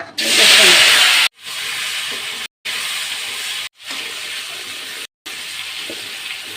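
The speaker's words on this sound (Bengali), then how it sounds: "তেল গরম হয়েছে এখন আমি আলুগুলো ভেজে নেব" Potatoes fry in hot oil in a wok while a Katla fish and potato curry is cooked. A loud, hissing sizzle comes in several bursts, each separated by a brief silent break.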